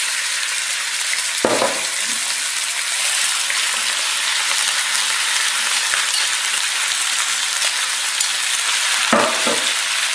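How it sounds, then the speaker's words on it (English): Meat, peppers and onions fry together in a thin layer of olive oil, a loud, steady, rain-like sizzle close up, broken by two brief stirring scrapes, with no voices. "First step is just going to be to cook this meat and the peppers and onions."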